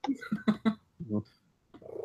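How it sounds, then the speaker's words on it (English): A pet cat gives a few short, close meows in quick succession, then one longer cry, with people talking around it in a room. "We can listen to Musty's Marvelous Cat."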